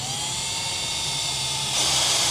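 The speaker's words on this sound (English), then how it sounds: "the reason why we're drilling is to keep the holes straight" A drill bores holes in a filament spool with a steady, high, close whine that jumps slightly in pitch and loudness partway through.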